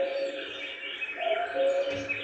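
A cuckoo calling during a kindergarten spring bird celebration, heard as a short, clear, tonal call that repeats over about two seconds.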